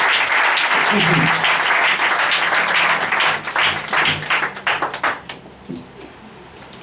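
A church congregation at a Sunday service applauds loudly and continuously, a dense close roar of clapping that thins into scattered claps and fades near the end, with voices talking over it.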